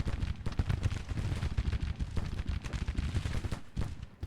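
Dense massed rifle and cannon fire from a Civil War battle in the strategy game Grand Tactician, a faint continuous crackling fusillade with low booms, distant and steady, with no talking.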